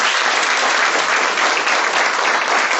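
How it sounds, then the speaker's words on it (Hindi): An audience bursts into applause after a motivational story, a dense, loud, steady wall of clapping that holds evenly for the whole stretch with no voices over it. "एक बार तालियों से स्वागत करें"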